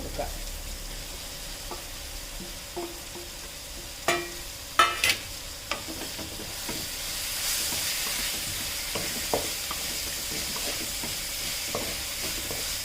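Spinach sautés in a pan for a spinach dal curry, giving a soft, continuous sizzle punctuated by occasional clinks and scrapes of stirring, with a few sharper knocks partway through.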